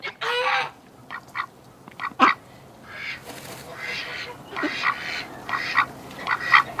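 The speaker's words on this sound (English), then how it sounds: "Oh, little duck." Wintering ducks quack in short bursts at a farm pond, several calls scattered near and far alongside a brief splash or clatter, with a faint rumble underneath.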